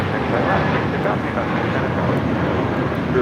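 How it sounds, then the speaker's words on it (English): A Spirit Airlines Airbus A320 takes off at LAX, bound for Salt Lake City. Loud, steady jet roar and rushing wind fill the whole stretch, and a voice is faintly present underneath. "This is Spirit 3034 taking off to Salt Lake City on an A320."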